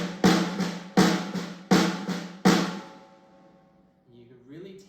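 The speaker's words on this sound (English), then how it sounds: "Then we're going to add the accents on every downbeat." Four loud percussion hits land in a steady rhythm, each ringing into a sustained low tone, in an accented drumming passage from a school percussion section. The hits sound close and solo, then decay, and a faint rising tone follows.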